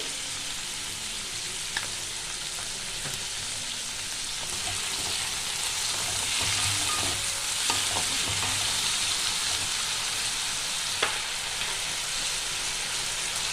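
Potatoes and onions frying in a pan for a Bengali pui shak posto dish, a steady close sizzle running throughout with occasional soft scrapes and taps as the mixture is stirred, no talking.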